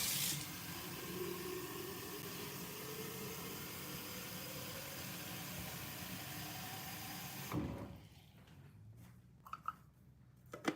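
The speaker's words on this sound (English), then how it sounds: "Let me put water in this." Tap water runs steadily into a container for about seven seconds, a continuous close hiss, then cuts off, leaving quiet room tone with a few small knocks.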